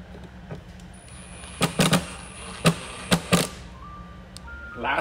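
An electrical connector on a 2015 Audi A4 headlight is pushed home during a bulb service. Several sharp, close plastic clicks come in a quick cluster over a faint background with a few electronic tones.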